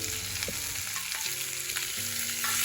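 Boiled potato pieces tumbling into a pan of roasted chillies and being stirred, with a steady sizzle of frying beneath a few soft scrapes and thuds, close and continuous, no voices.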